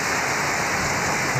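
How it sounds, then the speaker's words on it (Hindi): Heavy rain mixed with falling hail in the twin cities of Pakistan, a dense, steady hiss of downpour that stays loud and even throughout with no voices. "जुड़वा शहरों में तेज बारिश के साथ ओले भी गिरे।"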